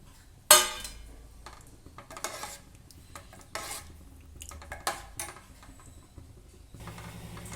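Boiled drumsticks tipped into a cooking pot and stirred, giving a sharp clatter at the start followed by scattered scraping, rubbing and light metallic knocks of a spoon against the pot.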